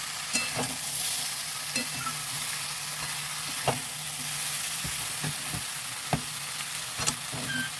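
Cut green chillies go into a wok of frying mixed vegetables, giving a steady soft sizzle with scattered clinks and scrapes of stirring, no talk.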